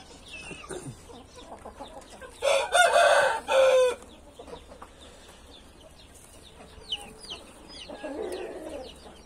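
A rooster with Polish hens on a small Brazilian backyard flock: scattered soft clucks and chicken calls, with a loud, close burst of crowing-like calls in the middle.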